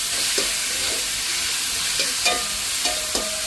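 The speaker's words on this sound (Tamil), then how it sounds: "தக்காளி பழம் கொஞ்சம் நல்லா வதங்கி வரது" Chopped tomatoes sauté in a pan with a steady soft sizzle and hiss, broken by several sharp scraping stirs of a spoon against the pan.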